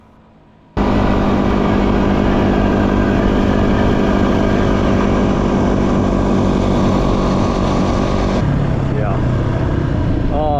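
A Honda CRF motorcycle riding through the outback on a desert crossing: the engine kicks in abruptly after a quiet start and holds a loud, steady drone close by, then drops to a lower idle-like hum with a faint rising whine near the end.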